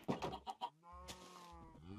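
Chickens and hens cluck in a survival video game, several quick bursts of clucking followed by a longer drawn-out hen call, fairly close and clear with no talk over them.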